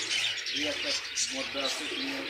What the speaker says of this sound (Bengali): চীনা টেডি কবুতর জোড়াটা দেখেন মাসাল্লাহ